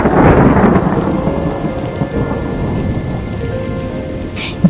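Thunder rumbles low and heavy for a cartoon storm, over steady pouring rain. It is loud and continuous throughout, ending with a faint sharp tick.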